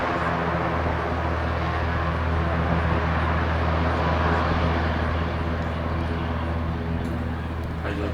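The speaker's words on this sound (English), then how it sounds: "so he did a go around and it worked well" Airplane aborting its landing and going around, a steady loud engine roar with a broad rushing drone that holds at the same level throughout, with a voice faintly underneath.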